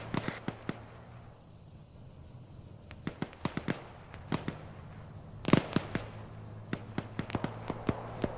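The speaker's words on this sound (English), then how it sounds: "I think those shots south are outside of the AO." Distant gunshots in the military video game Arma, scattered sharp cracks and pops at irregular intervals, some in quick pairs, over a low steady background hum with no talking.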